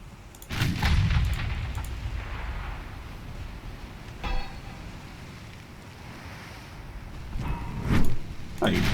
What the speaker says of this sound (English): Oh, they're firing back now.